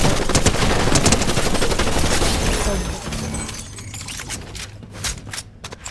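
Rapid gunfire crackles in the video game Fortnite, a dense burst of loud automatic shots that tails off into scattered quieter pops and game noise, with no talk.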